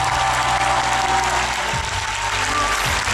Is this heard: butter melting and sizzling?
no